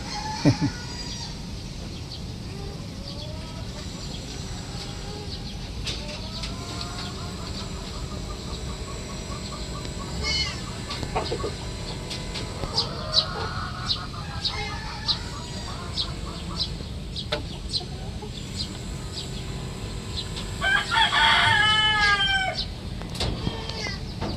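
Backyard chickens in a Filipino home setting, a flock of laying hens without a rooster, cluck and call intermittently at moderate distance, with a louder burst of calls near the end over steady low background noise.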